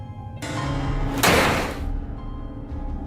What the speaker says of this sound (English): After finding no one, he returns inside and the door slams shut.